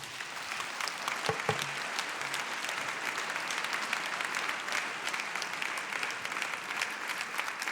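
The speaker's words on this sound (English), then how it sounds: "A round of applause to our great panelists." Sustained applause from a sizable conference audience after a panel discussion, a steady even patter of clapping lasting the whole time with no speech over it.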